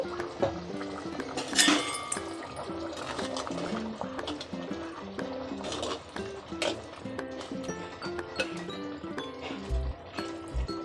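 A spoon scrapes and clinks around a pot of elephant foot yam and egg curry while thick liquid slops and squelches, in an uneven rhythm of stirring, fairly close and quiet.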